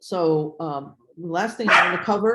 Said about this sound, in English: that's my dog barking here